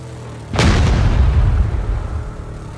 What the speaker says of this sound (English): Oh, I hear a C4 somewhere.